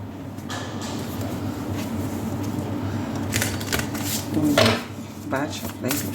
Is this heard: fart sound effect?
no